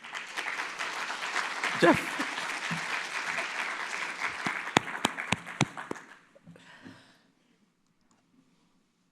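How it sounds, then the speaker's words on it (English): An audience at a genomic medicine conference plenary gives a round of applause. The dense clapping lasts several seconds with a few sharp, distinct claps near the end, then fades out to quiet; a voice speaks briefly at the start. "request the audience to applaud him with a round of"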